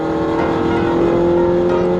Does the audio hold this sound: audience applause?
no